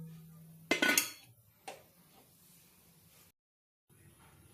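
Metal clatter from a spoon stirring in a pan while cooking bottle gourd peels, then a lid clanks on: a loud burst of clinks followed by one sharper knock, with a quiet hiss before falling silent.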